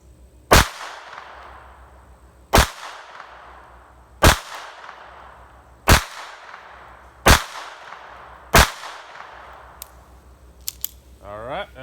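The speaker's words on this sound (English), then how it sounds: "We're going to shoot at the top left." Six sharp shots from an Astra Firecat .25 ACP pocket pistol fired at a target about 5 yards away, evenly spaced roughly every one and a half seconds, each loud crack followed by a short outdoor decay, then quiet handling noises.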